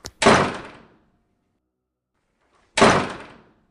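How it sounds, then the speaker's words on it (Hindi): A door is kicked hard in a horror story sound effect. Two loud, heavy wooden thuds land about two and a half seconds apart, each ringing briefly and then falling to silence. "संध्या को इतना डरा हुआ देखकर मैंने जोर जोर से लाते मारना शुरू कर दी, लेकिन दरवाज़ा टूटने का नाम नहीं ले रहा था।"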